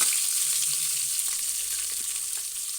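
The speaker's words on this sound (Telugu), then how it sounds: "నూనె వేడెక్కాక అందులోకి పచ్చిమిర్చి," Green chilies frying in a little hot oil make a steady, close sizzle with crackling pops that fades slightly over time, heard alone with no talk.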